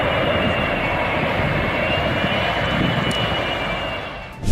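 An Airbus A380 comes in to land with a steady, loud roar of its four engines that continues unbroken and ends with a short thump.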